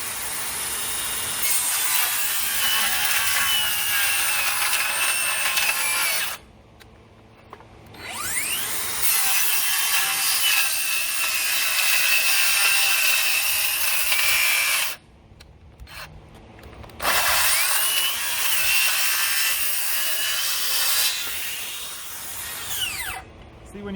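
A Kobalt XTR brushless circular saw with the blade lowered all the way rips through wood in long, loud, harsh stretches. The whine stops twice for brief gaps before the cutting resumes.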